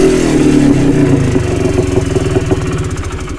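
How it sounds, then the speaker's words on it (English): A cheap midsize quad's engine revs high and then winds back down toward idle, loud and close, the rhythmic putter growing audible as the revs drop. "What really sucks is you gotta let it rev back down before you can put it in gear"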